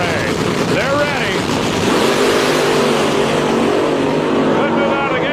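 Drag racing cars launch in an ADRA final-round pairing, one hazing its tires. A dense, loud engine roar holds throughout beneath an announcer's commentary.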